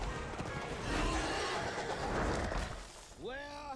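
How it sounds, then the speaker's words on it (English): A cartoon horse whinnies near the end, a rising and falling neigh cutting in briefly after a stretch of busy, overlapping noise from an animated show. "Oh dear, it's a horse."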